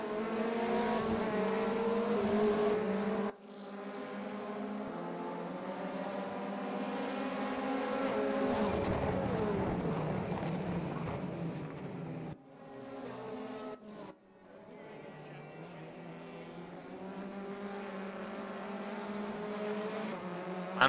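Touring cars in the RaceRoom racing game roar around the Sonoma GP circuit in a WTCC-style race, their engines rising and falling through gear changes. The engine tone breaks sharply at each shift, and no one speaks over it.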